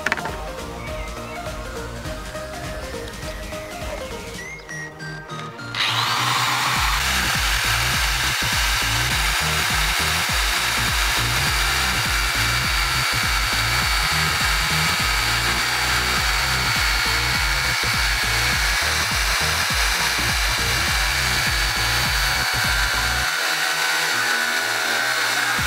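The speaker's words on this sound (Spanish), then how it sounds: "Vamos a cortar esta tubería de PVC, que como es plástico se supone que la va a cortar fácil." A power tool fitted with a giant paper cutting disc slices through plastic PVC pipe, a quieter spin-up giving way to a loud, sustained rasping whine that holds steady for about twenty seconds before cutting out.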